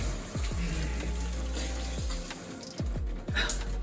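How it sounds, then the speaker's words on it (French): Cold water runs continuously from a shower, a steady close splashing stream with a few brief surges and no talking. "Alors juste prendre une douche froide"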